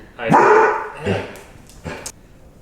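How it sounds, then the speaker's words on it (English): A dog barks sharply at close range during an interview, a loud burst followed by two shorter yips, with people talking around it. "we're gonna try to do an interview with my dog's barking"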